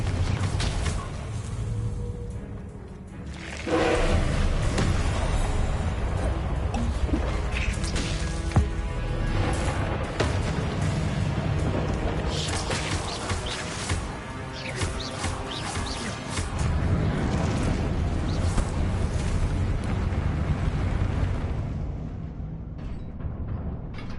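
A Confringo blasting spell explodes in a Harry Potter video game, its booms and crashes buried in a dense, continuous wash of loud game noise with creaks and mechanical clatter.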